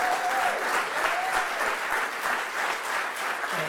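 An audience gives sustained, even applause for a photographer at a New York event, dense clapping throughout with a faint voice or two underneath.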